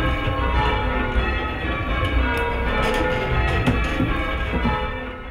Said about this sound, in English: When I was ringing the sixth bell in a group, it felt easier than when I was ringing the fourth or fifth bell.